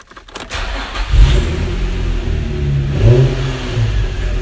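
A JDM Nissan Skyline GT350 engine revs up close and loud as the car pulls away, with a rising throaty surge and a second rev midway, then steady driving-off rumble.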